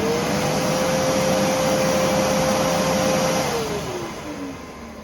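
A vacuum cleaner with a nozzle sucking up stones runs loudly and steadily up close with a whining motor tone, which drops in pitch and fades slightly near the end.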